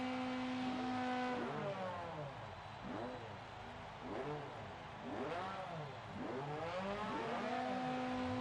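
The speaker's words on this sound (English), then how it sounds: "So we can hear the revs have climbed." Racing engines of TCR touring cars rev on the grid at Mugello before a world championship round, several cars blipping throttles in repeated rising and falling sweeps, loud and close, with steady engine drone beneath.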